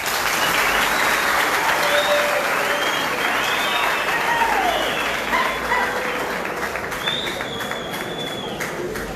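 Students at a college gathering applaud themselves, a loud, continuous round of clapping with scattered whoops and cheers rising above it, easing slightly toward the end.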